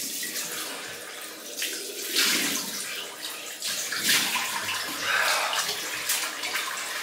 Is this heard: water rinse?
yes